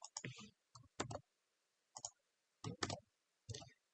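Mouse clicks while using the pen tool in Illustrator to delete anchor nodes, a handful of short, crisp clicks in small clusters, close and fairly quiet against silence.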